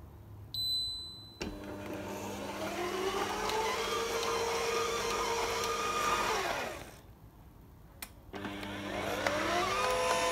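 A Tefal ZC420E38 slow juicer with a glass of water poured in runs its cleaning mode, the motor whirring steadily with a rising tone, stopping briefly midway, then starting up again, close and alone without speech.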